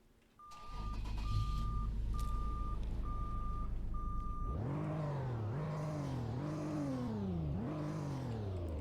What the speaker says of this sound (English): getting a startup on the V6